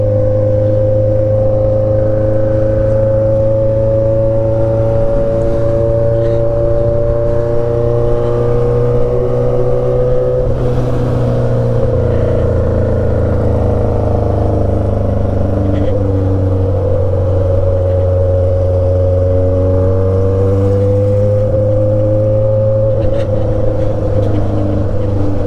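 Yamaha XJ6 motorcycle with a stainless steel exhaust, engine humming loud and steady while riding, with pitch shifts as it revs up and changes speed, a droning tone throughout with wind noise.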